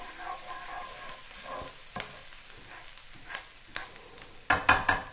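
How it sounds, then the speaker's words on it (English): Garlic stirred and sizzling in a pan, with intermittent scraping strokes through a soft frying hiss, ending in a few louder clattering stirs. "Give that a quick stir. The garlic will burn and get bitter really quick"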